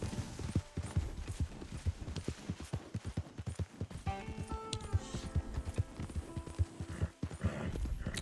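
Horse hooves clip-clop steadily at a walking pace in Red Dead Redemption 2, fairly close and clear, with a few brief tonal in-game sounds partway through.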